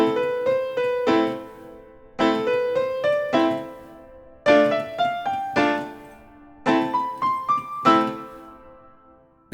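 Solo piano plays the opening four measures of the Arabesque's section A, with left-hand notes struck under rising melodic runs in four clear phrases, each beginning with a strong attack and ringing off, close and clear with no talking.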